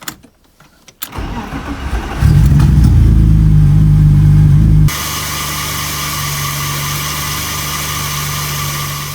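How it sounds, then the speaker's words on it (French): A BMW M50 engine in a drift car cranks and fires up, settling into a loud, close, steady idle with a rumbling low tone that shifts slightly partway through. "Je vais démarrer la voiture aussi, je vais vous montrer."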